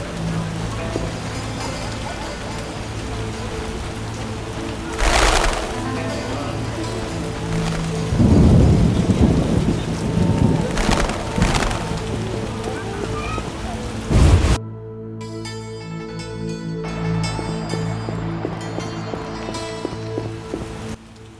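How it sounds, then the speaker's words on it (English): Steady heavy rain in the video game The Witcher, with a few loud thunder claps and rumbles rolling over it, the downpour continuing underneath throughout. "Scourge of the Lords, this rain!"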